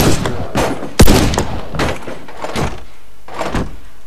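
Shotgun blasts in the online shooter game Warface, a handful of sharp, booming shots at irregular intervals with one especially loud, close blast, each followed by a short rumbling tail.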